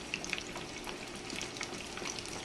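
Pork schnitzel, large pieces of meat, frying in hot oil in a skillet over a big flame: a steady, close, dense crackle and sizzle with scattered sharper pops throughout, no voices.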